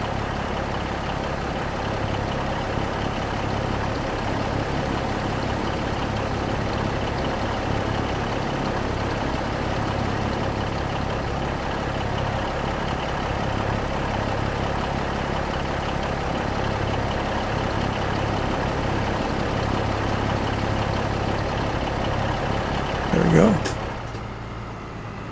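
A tractor engine in Farming Simulator idles with a steady low drone and hum that holds evenly throughout, with a brief clunk near the end.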